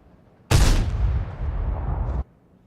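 M40/M43 self-propelled gun firing a shell in a tank video game: one sudden loud blast that rolls into a sustained rumbling roar for nearly two seconds, then cuts off abruptly into quiet.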